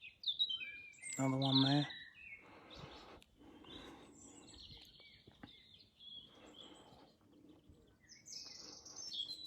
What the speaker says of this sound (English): All we can hear is the birds twittering